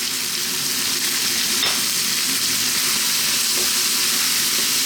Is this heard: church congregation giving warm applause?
no